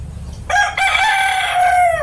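A single loud, close crow from a crossbred rooster that looks like a native chicken, starting abruptly and drawing out for over a second against a quiet low hum.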